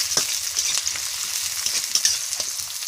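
Onions fry in hot oil in a home kitchen, giving a steady, dense sizzle with soft stirring scrapes and small pops throughout, close and unbroken.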